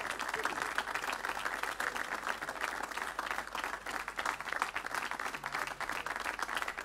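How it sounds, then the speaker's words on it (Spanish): Applause from a live audience at a folk music concert in La Orotava, a steady dense wash of clapping lasting several seconds with no break. "Un fuerte aplauso."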